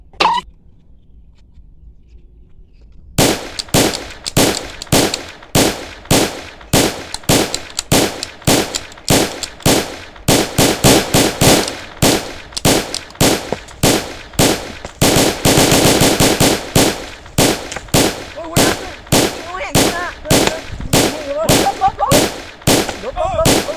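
Rapid bursts of gunfire, many shots in quick volleys, loud and close, continuing almost without pause throughout.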